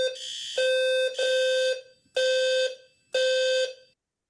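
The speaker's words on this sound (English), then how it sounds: "Now consider that same frequency coming from a smoke alarm." A shrill electronic alarm sounds in four long bursts with short gaps between them, loud and piercing, with no other sound.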